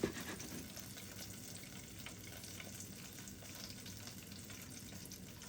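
Banana blossom pieces dipped and swished in coconut milk, giving soft, continuous wet sloshing and bubbling close up with no talk.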